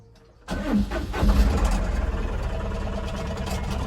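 A vehicle engine cranks and catches, then settles into a steady rumbling idle, loud and close, with no talk.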